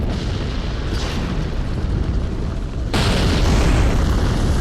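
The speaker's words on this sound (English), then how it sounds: "Now, the sound you're hearing is the ballista," Ballista bolts firing in Dark Souls III, heard as loud, continuous booming rumble with a sharper, stronger burst partway through, sustained and close.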